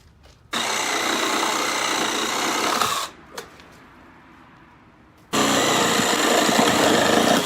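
A powered saw, likely a reciprocating saw, cuts the end off a wooden deck railing post in two loud buzzing bursts separated by a quieter pause, close to the mic with no talking.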